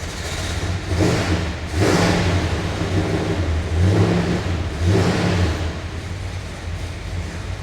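A 1969 Dodge Super Bee V8 with a stock cam revs in several close, loud bursts, each rising and falling back to a deep rumbling idle between them, with no talk.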